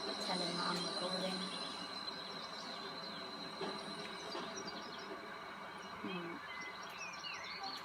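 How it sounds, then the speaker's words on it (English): A train runs on the West Somerset Railway in the Train Sim World game, a low continuous rumble of wheels and coaches with faint squeals and bird chirps in the background. "So yeah, there's our train."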